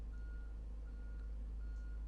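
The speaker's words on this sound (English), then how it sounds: "It's a truck beeping constantly." A truck's reversing beeper sounds outside, a thin repeating tone at a steady pace that stays faint and distant over a constant low rumble.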